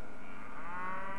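Cattle in the video game Mount and Blade Warband give a single drawn-out moo that swells and rises in pitch toward its end, heard alone and fairly close.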